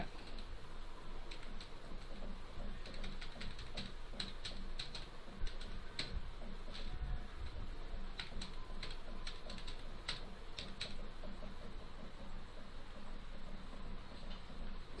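Soft, rapid keystrokes on a computer keyboard while entering personal details into an online passport application form, a faint irregular clatter of taps over a low background hiss, with no talking.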